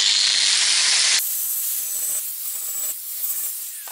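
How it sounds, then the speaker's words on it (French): Burrs being scraped off drilled holes in sheet metal on a Citroën Traction 11B body under restoration: a continuous close, hissing scrape, loudest for the first second, then a steadier, quieter rasp with small dips. "j'efface les bavures de perçage"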